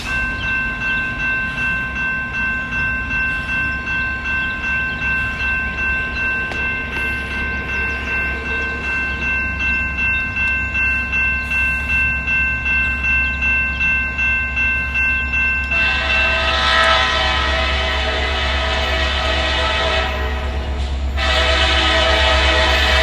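Norfolk Southern H95 light engine move on the New York Secondary: a locomotive horn holds a long steady blast, then a loud, close rumble of the locomotives rolling past swells in and fills the last seconds.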